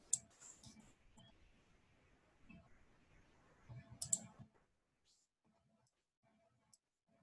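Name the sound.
computer mouse clicking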